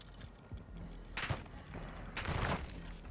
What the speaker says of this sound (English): We're getting shots at us.